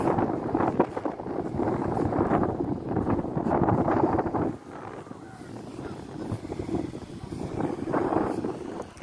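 Strong wind on the Indian Ocean shore of Wasini Island, Kenya, buffets the microphone in gusty roars, loud and continuous, rising and easing over several seconds.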